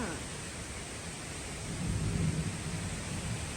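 Rain falls at a home in rural Isan, Thailand, a steady, faint wash of hiss with a low, rumbling swell of distant thunder partway through and no talking over it.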